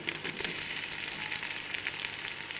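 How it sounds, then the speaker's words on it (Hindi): Ginger and garlic paste frying in a pan as tomatoes go in, giving a steady, close hiss of sizzling oil that holds even throughout, with no talking. "दो मिनट अदरक और लहसुन को पकाने के बाद अब हम इसमें डालेंगे टमाटर"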